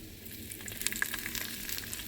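Roasted gram and cashews frying in oil in a pan for upma, a soft continuous sizzle with faint crackles and pops, quiet and close, with no talking.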